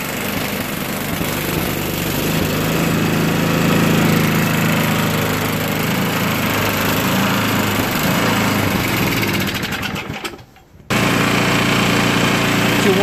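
An MTD 5.5 HP two-stage 24-inch snow blower runs after an oil change with a steady, loud, buzzing small-engine drone that briefly dips and cuts out near the end before picking back up.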